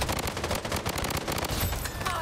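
Rapid bursts of assault rifle fire from the video game Blood Strike rattle loudly and continuously in a fast, even rhythm, with a voice faintly under the shots.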